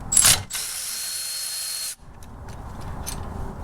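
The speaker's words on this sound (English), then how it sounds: "Now I'm going to put my 12mm socket on there and take out the brake bracket bolt." A power tool with a 12mm socket backs out a brake bracket bolt on an FJ Cruiser during a brake job, a sharp impact burst followed by about a second and a half of steady whirring, close and loud, then quieter shop ambience.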